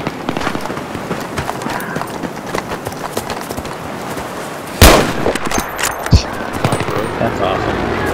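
Battlefield 3 multiplayer on Wake Island brings one loud, sharp sniper rifle crack at mid-clip, followed by a smaller report. Busy battlefield noise with rapid clattering runs throughout, and a voice talks intermittently.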